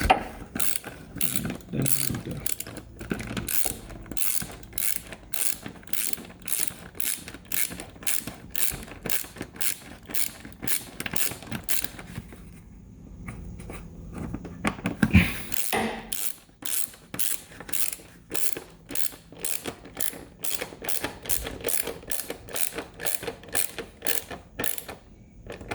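Ratchet wrench clicking steadily in rapid bursts while tightening the plastic engine air filter cover fasteners on a Toyota Camry, with a short pause midway before the fast ratcheting resumes, close and loud.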